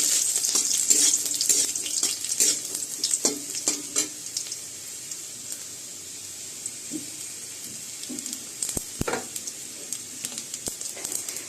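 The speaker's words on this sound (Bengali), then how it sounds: "রসুন লাল লাল করে ভাজা হলে দিয়ে দেব কালো জিরে, মৌরি, মেথি, সরিষা" Garlic frying with black cumin, fennel, fenugreek and mustard seeds for a spinach dish, a sizzling hiss with scraping stirs and clicks early on, fading to quieter crackle and occasional taps.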